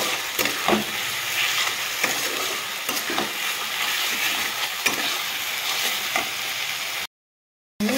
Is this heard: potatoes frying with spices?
yes